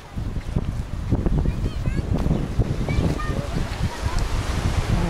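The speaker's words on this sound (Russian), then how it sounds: "Красиво, ветерочек дует" Light sea breeze rushing steadily across a seafront promenade in Alanya, Turkey, a broad, constant wind roar buffeting close to the microphone, with people's voices and surf faintly mixed in.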